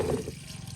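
Dirty diesel drains out of a 1925 Ford Model T express truck engine in a brief, close, gurgling liquid pour that quickly thins to a soft trickle.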